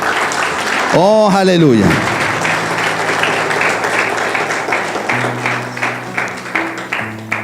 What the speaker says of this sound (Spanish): Yo le doy un aplauso al Señor por eso.